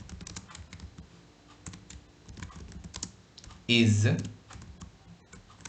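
Typing on a computer keyboard while writing Python code, with soft rapid key clicks running under a man's nearby speech and one louder burst partway through.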